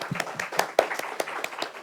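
Scattered applause for Ricardo Alvarado at a Spanish-language book presentation during a journalism festival, a handful of separate claps spaced irregularly and fairly close, thin rather than a full crowd.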